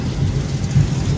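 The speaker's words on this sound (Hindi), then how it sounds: "बिजली कड़क रही है बहुत तेज़ और बारिश देखो आप" Loud, steady downpour of heavy rain during a thunderstorm at home, with deep thunder rumbling continuously underneath and a brief swell of thunder partway through; no voices.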